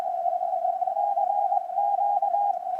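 A steady single-pitched tone from an amateur radio receiver carries a CQ call, holding continuously with slight flutter over faint static, with no voices.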